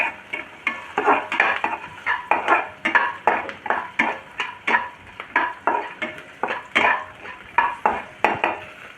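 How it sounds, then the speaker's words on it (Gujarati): Onions sautéing in a pan for seviyan pulao, stirred with a steady rhythmic scrape of a spoon against the metal roughly twice a second, with a soft sizzle underneath, close and clear with no talking. "આપણે ડુંગળી થોડીક સતરાય ત્યાં સુધી સાતરી લઈએ"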